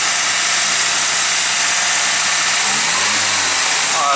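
A Nissan 180SX drift car engine runs steadily after warm-up, a loud continuous rumble with broad hiss, close up and without talk, with a slight rise in pitch near the end.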